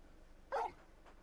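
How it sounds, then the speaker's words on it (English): A dog in the video game Final Fantasy XVI gives a single short, sharp bark at close range, standing out alone against a quiet background. "You're just a big puppy, aren't you? Bark."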